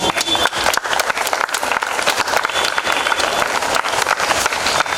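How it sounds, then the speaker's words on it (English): Loud, dense applause fills a school pupil leader investiture ceremony as the assembled guests are welcomed, a continuous crowd of clapping hands with no voices over it. "With an applause"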